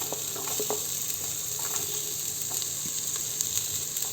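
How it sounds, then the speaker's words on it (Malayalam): Onion and garlic sizzle steadily in hot oil in a pan, a dense, even hiss with a few faint clicks and light stirring sounds, close and constant, with nobody speaking. "അതൊന്ന് ചൂടായി വരുന്ന സമയത്ത് നമുക്കിതിലേക്ക് സവാള ചേർത്ത് കൊടുക്കാം."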